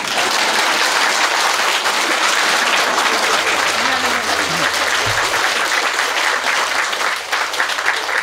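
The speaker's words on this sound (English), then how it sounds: "Now applause." An audience at a large spiritual gathering breaks into sustained applause, a dense, even wash of clapping that lasts about eight seconds at a steady level.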